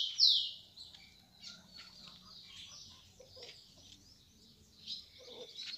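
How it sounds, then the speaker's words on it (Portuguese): Male and female blue grosbeaks sing in soft, scattered high chirps and short phrases over a quiet background, fairly faint and a little distant, with no talk. "Tá o azulão macho e a fêmea."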